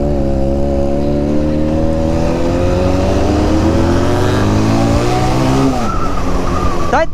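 A Benelli TNT 300 motorcycle fitted with an Akrapovic exhaust revs loudly and close up, its engine note climbing steadily through a long pull before dropping off sharply and briefly rising again near the end.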